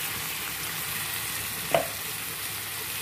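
Onion, green chilli and garlic paste sizzles in a hot pan for a fish-head and puffed-rice dish, giving a steady, close hiss of frying with one brief clink or stir partway through.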